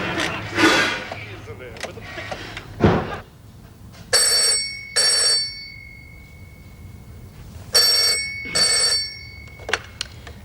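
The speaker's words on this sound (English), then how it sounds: "I'll give Meg a ring. All right, phone's over there" A landline telephone in a household rings for an outgoing call, with two pairs of bright electronic ring bursts in a double-ring rhythm, heard alongside household bustle and knocks.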